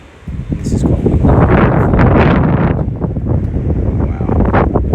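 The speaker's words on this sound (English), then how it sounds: "the wind is starting to get up as we speak" Strong wind gusts blow steadily outdoors at a beach house under construction in Barbados, a loud, broad roar buffeting the microphone throughout with rustling underneath.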